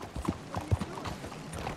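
Horse hooves clip-clopping in the video game Red Dead Redemption 2, a short run of uneven, fairly close hoof strikes with faint background ambience.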